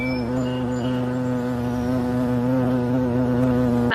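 Honeybees at campus beehives drone in a dense, steady buzz, close and loud, filling the air without pause or voices.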